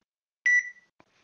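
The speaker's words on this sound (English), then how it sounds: "There's the beep." A single short, bright electronic beep from a mobile phone scanning a barcode, followed by a faint click, in otherwise quiet surroundings.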